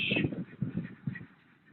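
Several harsh, nasal quacks from ducks on a river sound in quick succession at moderate distance, softening and fading toward the end.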